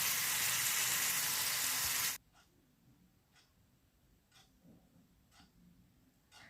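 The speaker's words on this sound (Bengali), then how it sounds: "টমেটো পেস্টটা দিয়ে এক মিনিট মতন ভালো করে কষে নেবো" Tomato paste fries in a pan for a Bengali mustard pabda fish curry, giving a loud, steady sizzling hiss for about two seconds before it cuts to near silence with faint, evenly spaced ticks.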